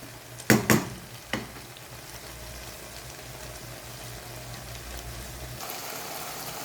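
Kangkong (water spinach) stir-fried with tofu and fried pork in a pan, a steady close sizzle with a few sharp utensil clinks early on, no talking.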